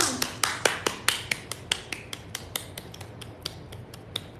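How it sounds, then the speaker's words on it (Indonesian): A small group claps for a livestream host after a meal, about twenty crisp, separate claps in a steady quick rhythm, close and fairly quiet, with no talk. "Tepuk tangan, semuanya tepuk tangan."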